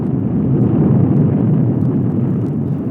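A sustained, heavy roaring rumble holds steady at high loudness for the whole stretch, with no talking over it, much like a large explosion and the fire that follows.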